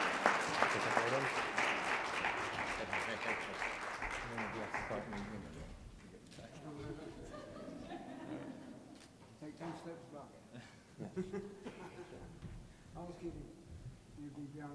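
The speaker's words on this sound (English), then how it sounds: "So round of applause for Matthew, please." A panel audience applauds for several seconds, clapping dense at first and then fading, followed by scattered claps under people talking.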